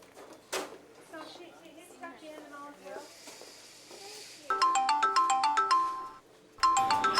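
A phone ringtone plays a bright, repeating melodic pattern in a home, loud and close, after quieter household voices and clatter; it stops briefly and then starts again.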